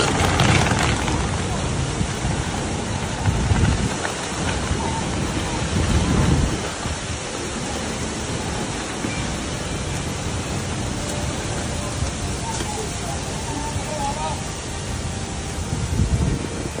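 Heavy rain and strong wind during Typhoon Co-May in Zhejiang, China, with floodwater in the streets: a dense, steady roar of downpour and gusts that stays loud throughout, with a few stronger surges.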